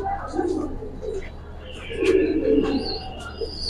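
Soft cooing and a few chirps from pigeons at a market stall for Giribaz and other fancy breeds, fairly close, with faint background murmur.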